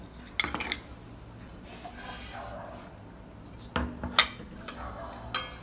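Soap mixture is stirred in a bowl with a utensil, giving soft scraping swirls broken by a few sharp clinks against the bowl's side, with no talking.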